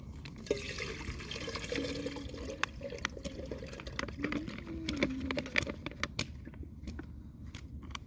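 Water pours from a Platypus bottle into a Coggins kettle outdoors in the woods, a steady trickling fill with faint gurgles and drips over soft background noise, close by and moderately quiet.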